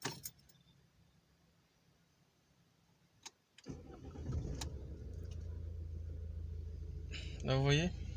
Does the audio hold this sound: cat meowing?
no